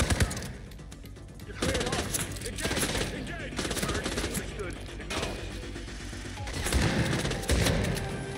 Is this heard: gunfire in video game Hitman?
yes